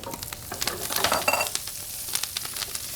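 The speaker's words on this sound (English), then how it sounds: "into this pan, we're gonna take our halved washed Brussels sprouts." Halved, washed Brussels sprouts fry in bacon fat in a pan, giving a steady close sizzle with scattered crackles and spatters and a brief louder swell near the middle.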